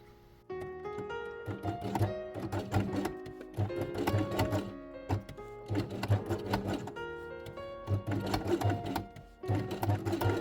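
Velcro is stitched along the edge of a red fabric element for a quiet book, the sewing machine whirring in short rhythmic bursts with brief stops between, close by and without speech.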